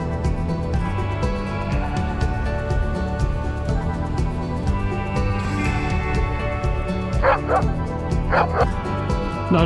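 A dog barks in quick repeated yaps along a lakeside cycling route in Mecklenburg, a steady string of sharp barks with a few higher whimpering yips near the end, moderately close.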